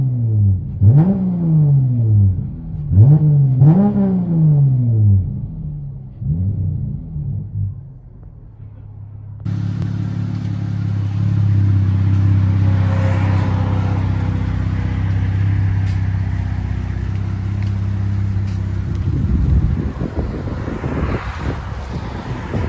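Cabin view of a 2016 Dodge Challenger V6 with dual straight-pipe exhaust: a few deep revving blips, then a steady loud low drone and rumble as the car runs, heard from inside.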